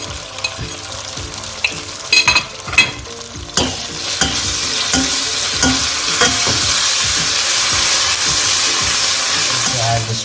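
Ginger garlic paste frying for lamb curry, opening with a few sharp clatters and stirring knocks before settling into a loud, steady sizzle that fills the rest, close and with no voices.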